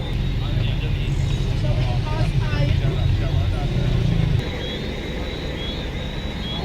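A loaded cane truck rumbles as it starts to pull off, a steady low engine drone with voices talking over it, the heavy rumble dropping away partway through.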